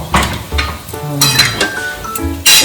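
Coconut milk poured into a pan of frying chicken pieces for a creamy coconut stew, giving a loud burst of sizzle with clinks of a spoon against the pan, close up and with no talking.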